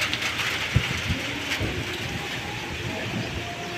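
Heavy typhoon rain from Carina pours steadily at Talisay Public Market in Masbate, a continuous hiss with a few soft knocks and taps mixed in.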